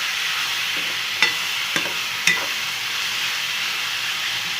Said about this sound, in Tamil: இதை நல்லா கிளறி விடுவோம்.